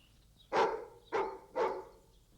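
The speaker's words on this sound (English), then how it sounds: "What's worrying that dog?" A dog barks three times in quick succession at moderate distance, each bark sharp and loud with a short tail, over a quiet background.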